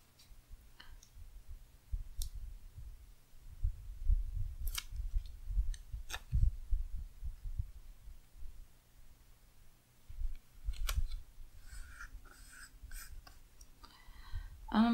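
Scissors snipping around planner stickers: quiet, close, irregular crisp cuts and paper rustles spread across a soft tabletop scene, with light handling clicks and no speech.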